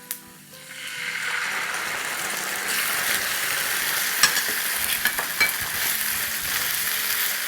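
Homemade chili garlic sauce, about six tablespoons, hitting a hot pan for kabab 65: a quick tap, then a loud sustained sizzle that swells and holds steady, with a few scraping stirs near the end.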